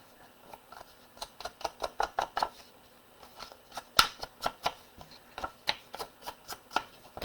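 Paper being trimmed for a handmade card kit, a run of sharp, quiet cutting snips in a steady rhythm, close by with no talking.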